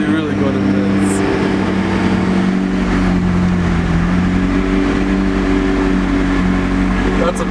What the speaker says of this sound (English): you can have the roof up and still listen to that beautiful engine noise